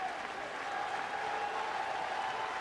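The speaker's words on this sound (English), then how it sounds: "A lively crowd at Yankee Stadium tonight." A lively crowd at Yankee Stadium during a Red Sox vs. Yankees baseball game in September 1991 gives off a steady, dense roar of applause and cheering, sustained and fairly distant.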